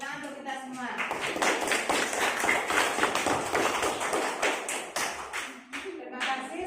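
A classroom of students applauding, a dense rapid patter of many hands clapping at close range, with a teacher's voice speaking before and after the applause.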